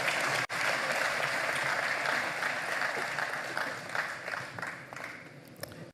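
An audience at an election results announcement applauds in a sustained burst of close clapping. The applause gradually thins toward the end, with a brief dropout near the start.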